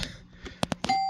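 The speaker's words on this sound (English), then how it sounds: "A doorbell with a flashing circuit to make it ding like a bell on a locomotive." An electronic doorbell with a flashing circuit, fitted to a gas belt-drive ride-on locomotive, dings three times in quick, evenly spaced strikes followed by a sustained ringing tone, heard close and alone.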